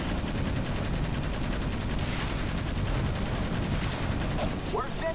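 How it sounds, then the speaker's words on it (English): An artillery barrage fired in the Toy Soldiers: War Chest game roars as a dense, continuous rumble of overlapping blasts and crackling explosions, loud and unbroken for several seconds. "Let's activate our barrage."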